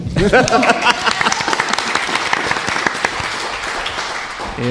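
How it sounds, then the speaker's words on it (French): An audience claps loudly and continuously, a voice briefly heard over the start of the applause. "Et on applaudit bien fort"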